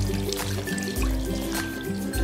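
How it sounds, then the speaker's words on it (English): A makeup sponge is rinsed and squeezed under running tap water, a short close trickle and splash lasting a couple of seconds. "Now let's try cleaning it under running water."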